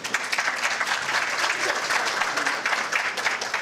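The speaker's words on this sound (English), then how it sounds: "Was that clapping because I was finished" Audience applause at a volunteer appreciation dinner, steady dense clapping from a room full of people, loud and continuous for a few seconds with no talk over it.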